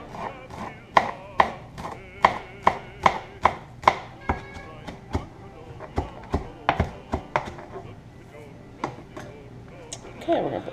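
A knife chops rolled-up leaves on a board in a home kitchen, with a rapid series of crisp, evenly spaced knocks that slow and grow irregular later, heard close while a person talks.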